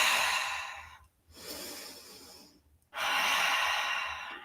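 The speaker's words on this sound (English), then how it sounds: "Take some deep breaths while we're here." Slow, deep breaths during a yoga wrist stretch, close and soft, with long airy exhales separated by short quiet pauses.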